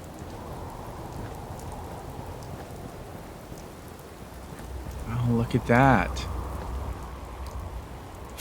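Rain in Fallout 4 falls as a constant soft hiss of drops around Diamond City while a voice briefly speaks near the end, the downpour continuing under and after his words.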